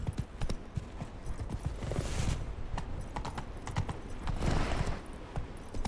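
Roach the horse's hooves clip-clop steadily in The Witcher 3 video game, a moderately loud repeating gait of hoof strikes with no voice over it.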